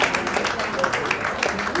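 A hall audience at a Karnataka Sangha Kalyan 23rd anniversary function gives loud, sustained applause, with dense clapping filling the whole moment without pause.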